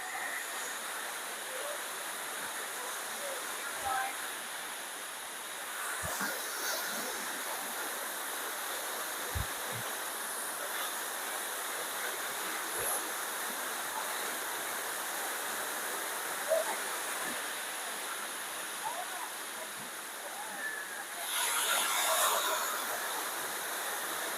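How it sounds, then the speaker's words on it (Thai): Saeng Chan waterfall at Khong Chiam pours in a steady, broad rushing wash of water that holds evenly throughout, with a few brief bumps and a slightly louder surge near the end. "ก็ถือว่าสวยงามนะครับน้ำตกแสงจันทร์"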